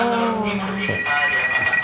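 A telephone rings at a roadside food stall, a loud, continuous electronic trill filling the short moment just before it is answered.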